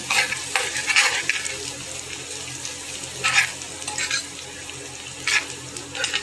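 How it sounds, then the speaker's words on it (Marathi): Garlic sautéing in oil in a pan while cooking a Bombay duck curry: a soft continuous sizzle with recurring spatula scrapes and stirring swishes at an uneven pace, close by, no talk. "आता हा लसूण जरा आपण परतून घेऊया."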